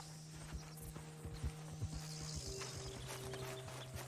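Horse hooves clip-clop on the ground in Red Dead Redemption 2, a quiet, uneven run of soft footfalls over a low steady hum, with no one talking.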